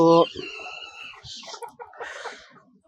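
Hens clucking and a rooster's call on a small desi chicken farm of about twenty-two birds, with a few short nearby calls and clucks overlapping one another across a couple of seconds.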